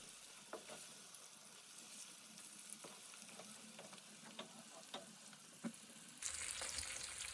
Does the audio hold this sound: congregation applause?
no